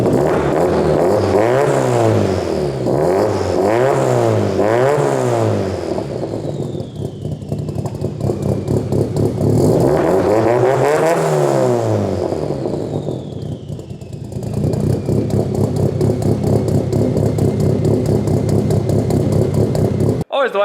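Drift car engine at a lumpy, uneven idle with repeated revs that rise and fall, loud and close, a throbbing rough note in between.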